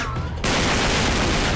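Dense, continuous burst of gunfire from the video game Uncharted 3: Drake's Deception, loud and sustained after a brief quieter moment at the start.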